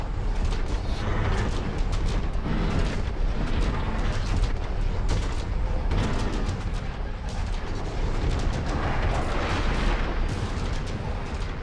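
Continuous artillery barrage in the mech combat game Mechwarrior 5: Mercenaries, a dense, loud wash of booms and crackling impacts with no letup.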